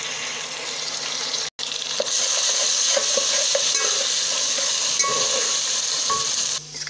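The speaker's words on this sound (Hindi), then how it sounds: "प्याज को हम गोल्डन फ्राई करेंगे। 1 टेबलस्पून पे हम डालेंगे लहसुन अदरक।" Onions frying to golden with garlic and ginger in a pan for chicken biryani: a steady, close sizzle with scraping stir strokes throughout, briefly cut off once, with no talking.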